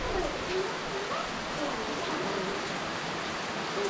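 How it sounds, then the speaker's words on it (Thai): Steady rain falls in Kanchanaburi, Thailand, near the entrance to Erawan waterfall, making a dense, even hiss that holds constant throughout without pause. "ก็คงต้องรอให้ฝนหยุดตกก่อนครับ"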